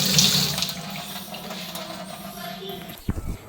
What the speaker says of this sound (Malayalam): ഇനി മീനിട്ട പാത്രമൊക്കെ ഒന്ന് കഴുകി വെക്കട്ടെ